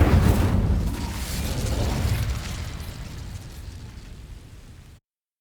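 Incendio fire spell from Hogwarts Legacy igniting dry vines, a sudden whooshing burst of flame that booms up loudly, then rumbles and fades away over a few seconds before cutting to silence.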